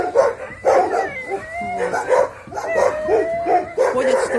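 Several dogs in kennel runs at a dog shelter give off repeated yips, whines and short barks, overlapping in close, uneven bursts throughout.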